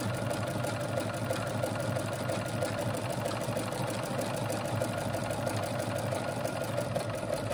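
A sewing machine stitches a zigzag buttonhole on an A-line skirt, its quick, even mechanical whirring continuous and close for several seconds with no voices.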